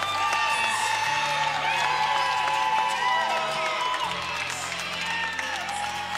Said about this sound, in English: Crowd cheering behind us.